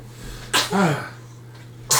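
A person sneezes once, loud and close, with a sharp burst followed by a drawn-out vocal release, and another sharp noise comes right at the end against quiet room hum.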